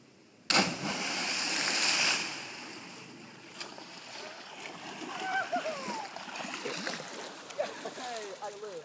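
A single loud, sharp splash as a person lands in a shallow river after a 40-foot 360 jump, followed by churning water and excited voices talking and shouting over the flowing river.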